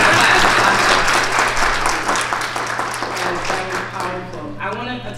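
A crowd applauds loudly, dense clapping that gradually fades over several seconds before a voice begins speaking.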